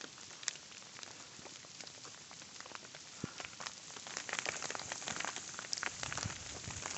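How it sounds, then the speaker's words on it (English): Sleet falling and bouncing on the ground along a mountain stretch of the Appalachian Trail, a steady dense patter of small icy ticks that thickens toward the end. "Let's see the sleet bouncing around."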